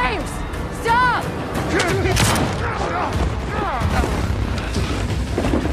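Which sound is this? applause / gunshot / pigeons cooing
gunshot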